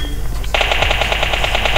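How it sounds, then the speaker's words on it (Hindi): Gunfire in the mobile game PUBG Mobile Lite: after a brief lull, a rapid, evenly spaced burst of automatic shots starts and keeps going, loud and steady, with no talking. "अब मैंने सोचा थोड़ी बॉट फायरिंग करूँ"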